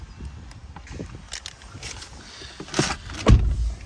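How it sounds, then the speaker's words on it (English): Electric wing mirrors folding on a 2021 Honda Jazz 1.5 i-MMD EX eCVT hybrid, a soft motor whir followed by a close, louder clunk as the mirror settles, in a quiet setting. "The wing mirrors do fold, as you can see."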